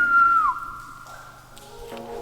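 A person whistles inside the Matka Canyon cave, a single sustained note sliding downward and fading into a faint echoing tail, followed by another softer whistled tone.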